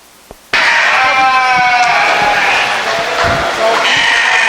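Dorper ewes at a sheep show bleat loudly and close, with long, wavering calls overlapping one another against a busy indoor arena background.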